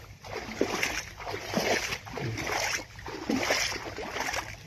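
Irrigation water flows and sloshes into a channel in a potato field, a steady, faint wash with surging swells.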